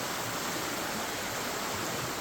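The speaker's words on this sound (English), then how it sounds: "You have the creek." A mountain creek beside a resort cabin in Hayesville, North Carolina rushes steadily, a constant, even hiss of flowing water that stays unbroken throughout, with no voices.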